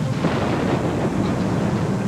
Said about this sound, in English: Suddenly, there's an explosion.